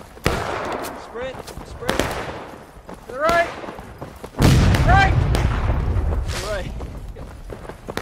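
Musket rifle fire in the Civil War video game War of Rights, sharp scattered shots cracking at irregular intervals, then a heavy sustained volley, with a man calling out commands over the firing.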